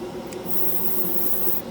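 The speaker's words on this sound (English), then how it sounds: "Seems to atomize the paint pretty good" A cordless battery-powered airbrush spraying lacquer paint, heard close as a steady airy hiss for under two seconds, with a faint hum beneath and no talking.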